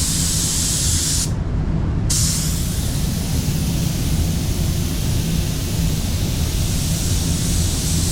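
A paint spray gun at reduced air pressure lays the final drop coat of PPG OneVisit paint on a Honda ZR-V. A loud, continuous hiss fills the space, with one short pause in the airflow near the start.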